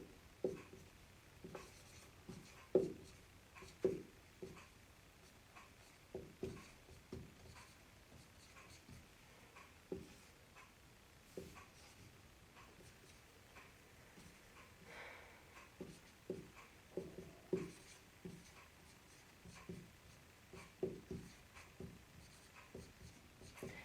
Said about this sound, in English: So I'm just going to write them down here real quick.